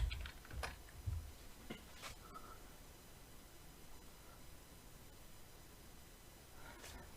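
Quick keystrokes on a computer keyboard as a command is entered at a terminal, a few faint taps at the start and end over steady background hiss.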